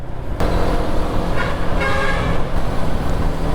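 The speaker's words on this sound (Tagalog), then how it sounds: "Tamang busina si kuya." A vehicle horn toots loudly and close amid road traffic on an evening ride in San Fernando, with engine and roadway noise running steadily underneath.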